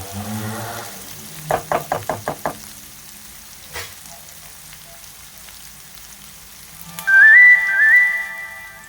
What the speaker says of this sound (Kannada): ಈರುಳ್ಳಿ ಸ್ವಲ್ಪ ಗೋಲ್ಡನ್ ಬ್ರೌನ್ ಆಗೋವರೆಗೂ ಫ್ರೈ ಮಾಡ್ಕೊಳ್ಳಿ